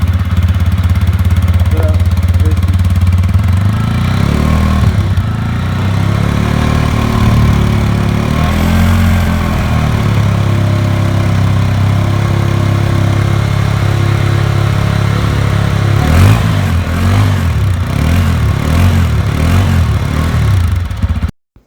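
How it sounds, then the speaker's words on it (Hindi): A TVS Apache RTR 160 2V motorcycle exhausts loudly up close, idling steadily with a few throttle blips that rise and fall, a strong low rumble throughout before cutting off at the end. "let's hear the exhaust sound of both these bikes. So let's start with the 162V."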